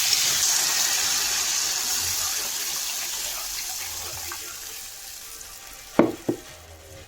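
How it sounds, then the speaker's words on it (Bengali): Water poured into a pot of potato curry on the stove, a steady rushing pour with sizzling beneath that slowly eases, followed by two sharp clanks of a utensil near the end, close and loud with no talking. "অ্যাড করবো পরিমাণ মতো জল।"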